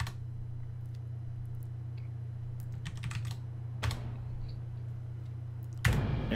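Computer keyboard typing during a game server setup, scattered close key clicks in a few short bursts over a steady low electrical hum, with a louder clatter near the end.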